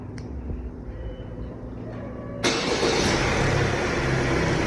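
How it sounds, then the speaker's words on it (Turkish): An Opel Astra J started by remote key fires up partway through, a sudden loud start settling into a steady, close engine idle after a quieter stretch with faint clicks. "Şu an araç uzaktan kumanda ile çalıştı."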